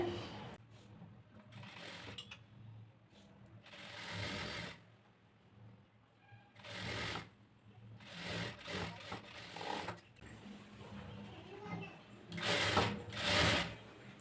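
Sewing machine stitching a blouse, running in several distinct bursts of mechanical whirring separated by short pauses, fairly close and steady while it runs, with no talking.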